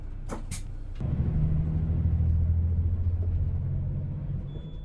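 An express bus engine rumbles low and steady after a brief hiss of air, droning on as the bus travels along Daedeok-daero in Daejeon, South Korea.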